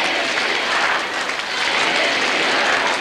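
A crowd gathered for Pope John Paul II in Ełk, Poland, applauds, dense steady clapping of many hands that stays loud and continuous throughout.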